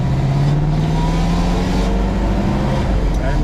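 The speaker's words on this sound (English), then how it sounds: "Foot's on the gas. Off we go. First gear." A 1956 Chevrolet Corvette pulls away in first gear, its engine loud and close from inside the car, with a rising rev and strong low rumble.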